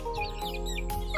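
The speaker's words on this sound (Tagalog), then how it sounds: "Ito na ang aking mga manok na naghihintay." Hungry chickens clucking close by in short, busy bursts while waiting for food, with a few higher chirps mixed in and no talking.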